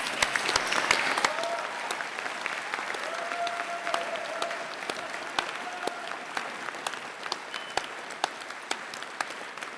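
A graduation ceremony audience gives warm applause, with many hands clapping in a dense, steady patter throughout. Individual sharp claps stand out close by, and a faint voice sits underneath.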